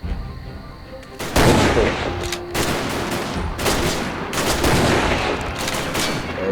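Gunfire in the video game Commandos Strike Force, a dense, loud barrage of overlapping shots and bursts that keeps going for several seconds after a quieter opening.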